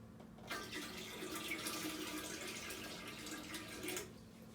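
Tap water running into a bed bath basin as it is rinsed out, a faint steady splashing stream that starts suddenly and stops about four seconds later.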